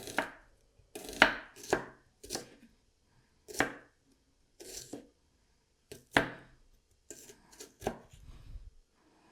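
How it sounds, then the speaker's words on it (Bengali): A knife chopping onions into thick slices on a board, about a dozen separate crisp cuts at an uneven pace, close up and clear with silence between strokes. "এখানে আমি 250 গ্রাম পেঁয়াজ নিয়ে নিয়েছি, ছিলে ধুয়ে নিয়েছি। এবার কেটে নিব।"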